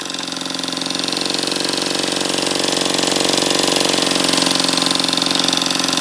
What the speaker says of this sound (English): What a precision little engine,